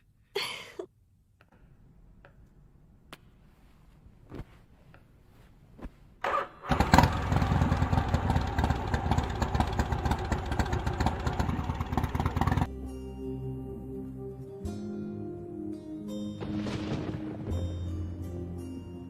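A motor vehicle engine cranks and catches after some quiet shuffling, then runs loud and rough for several seconds before settling into a lower, steadier idle.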